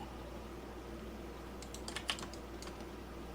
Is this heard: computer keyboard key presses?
yes